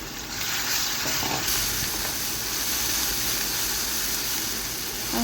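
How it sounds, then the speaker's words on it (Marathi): Green chillies and garlic fry in hot oil with cumin and mustard seeds for a Marathwada-style mirchu, giving a steady, close, even sizzle and hiss that runs throughout with no talk. "आता याच्यामध्ये मी हिरवी मिरची टाकून घेतलेली आहे हिरवी मिरची चांगली अशी तेलामध्ये खमंग सुगंध तर भाजून घ्यायचे आहे"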